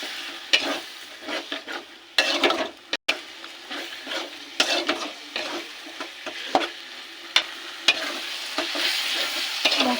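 Tomatoes and a little water go into a frying pan of spices for chicken do pyaza, bringing bursts of loud sizzling and sputtering with stirring scrapes, close by, rising and falling unevenly across the clip without talk.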